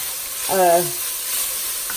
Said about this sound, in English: My onions are cooked nicely, and it deglazed the pot pretty well.